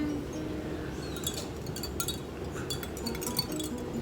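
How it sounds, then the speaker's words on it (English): Eggs are whisked by hand in a glass bowl for keto doughnut batter, with light, irregular clinks of the whisk against the glass repeating over a steady low background, fairly close and moderately quiet. "So we have the eggs, and we're gonna mix them first with a whisk."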